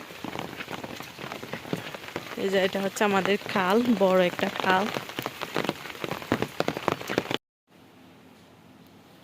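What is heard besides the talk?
heavy rain falling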